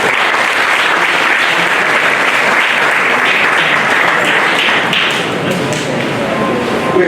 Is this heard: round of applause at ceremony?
yes